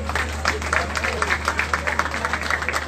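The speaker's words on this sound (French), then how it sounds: "Applaudissez pour Passy Deka." An audience applauds Passy Deka at a birthday celebration for Ben Decca, a steady patter of clapping close by, with a low hum and faint voices underneath.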